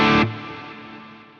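Electric guitar played through a Soldano amp model on an Ampero II Stomp: a short, bright distorted chord that cuts off quickly and leaves a fading ring.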